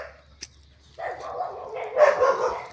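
Several dogs bark near a neighbor's yard during mango picking, a sharp yelp early on followed by a denser stretch of overlapping barks and yips at moderate loudness.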